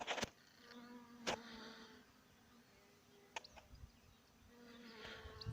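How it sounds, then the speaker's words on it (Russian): Bees buzzing faintly but continuously over a flowering rapeseed field outdoors, with a few soft clicks and brief noises above the steady hum. "Вот везде пчелки. Пчелки гудят."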